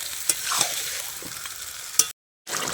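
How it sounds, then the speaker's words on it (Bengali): Turkey meat with onions and spices sautéing slowly in a pan gives a steady close sizzle with a few sharp ticks and scrapes of stirring, then a brief cut to silence before the frying resumes. "এটা আমি আস্তে আস্তে কষিয়ে নেব।"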